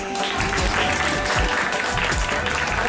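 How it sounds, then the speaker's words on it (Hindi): An audience claps warmly and continuously to welcome Baba at a spiritual inauguration celebration in Chandigarh, with a voice speaking over the applause. "तालियों से बाबा का स्वागत है"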